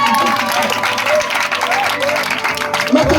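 Church congregation applauding and cheering for Jesus, dense sustained clapping from a crowd mixed with shouts and a raised voice speaking over it, loud and close.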